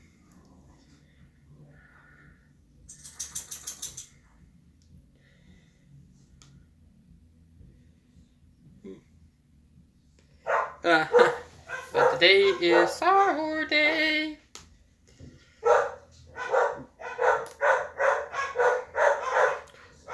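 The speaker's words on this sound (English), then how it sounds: "sorry about the dogs in the background" Several dogs bark and yip in the background, some barks sharp and clustered, mixed with whimpers and snorts, while someone talks over them in the foreground.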